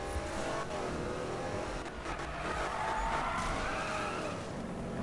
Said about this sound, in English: Oh my god, I hate drifting.